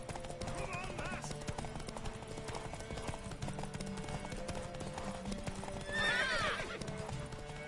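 Horse hooves clip-clopping in a steady rhythm with a neigh rising near the end, from The Witcher 3 on PS4, set under game music and a spoken voice.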